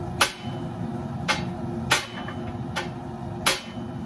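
A blacksmith's hammer strikes iron five times at a slow, even pace, each sharp metallic ring standing out clearly over a low steady workshop hum while restoring old iron garden gates.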